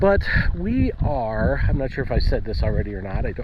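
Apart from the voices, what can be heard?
No everyday noise stands out behind the speech.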